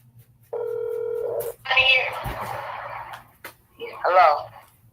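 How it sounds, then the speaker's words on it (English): Telephone dialing tones beep in a short steady run, followed by warbling ringing or phone signal bursts, with a low hum underneath and no clear talk over it. "I'm going to call my girlfriend up."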